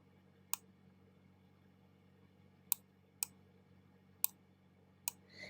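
A computer mouse gives five sharp, isolated clicks at irregular intervals while a layout is rotated in Cricut software, close and crisp over a quiet room hum.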